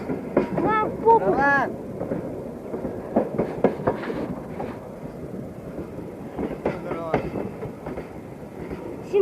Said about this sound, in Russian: Вот мы сейчас едем на поезде.